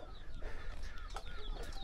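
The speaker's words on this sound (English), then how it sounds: "Chickens running around everywhere here." Chickens cluck in a Nepal village, their scattered calls rising over a steady, fairly close outdoor background with no talk.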